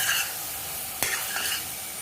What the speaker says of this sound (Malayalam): കുരുമുളകും കൂടെ ചേർത്ത് നന്നായിട്ടൊന്ന് യോജിപ്പിക്കാം.